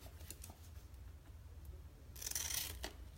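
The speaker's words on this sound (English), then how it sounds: "I need to sharpen my scissors" Scissors snip paper transfer pieces for a Chalk Couture craft project, a quiet, close setting with soft rustling and a couple of crisp, brief cuts near the end.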